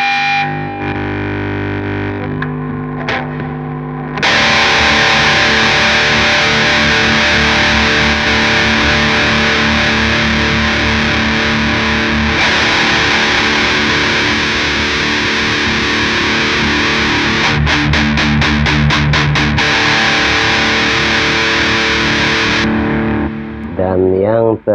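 A Line 6 POD HD500X multi-effects unit pushes an electric guitar through heavy distortion: loud, sustained, saturated chords ring continuously for most of the passage, with a brief rapid stuttering strum near the end before it cuts off.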